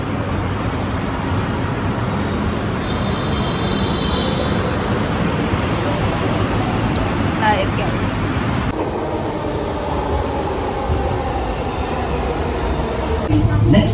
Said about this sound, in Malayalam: അപ്പം മെട്രോ വരും, എന്നിട്ട് നമുക്ക് അത് കയറി പോകണം.